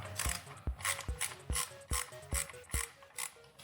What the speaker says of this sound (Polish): I możemy szukać śrubokręta, dokręcić nam to wszystko z powrotem